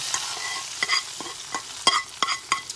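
Fried onion and carrot being tipped and stirred into a pot of chicken soup broth, a soft sizzling hiss with several scraping, splashing stirs at uneven intervals, close by and without talk.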